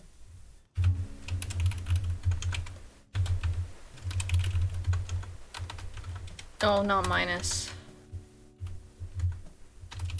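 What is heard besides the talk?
typing on a computer keyboard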